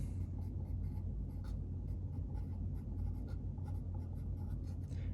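A pencil writing a name on drafting paper in a class drafting exercise, continuous close scratchy strokes with short pauses between letters over a low background rumble, no talking.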